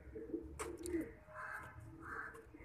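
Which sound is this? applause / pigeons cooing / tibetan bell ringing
pigeons cooing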